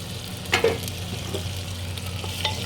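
Onion with ginger-garlic paste fries in a pan for handi chicken, giving a steady close sizzle with a few quick clinks and scrapes of a stirring utensil.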